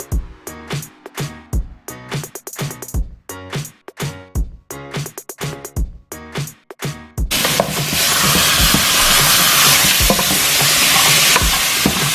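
Seasonings for Jamaican oxtail sweating in a pot without oil, first heard as rhythmic scraping strokes of stirring, then a steady loud sizzle that continues to the end, with no talking.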